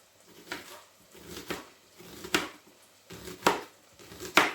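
A kitchen knife slices an onion into rings for soup, about six crisp, evenly spaced chops striking a cutting board, close and clear with no talking.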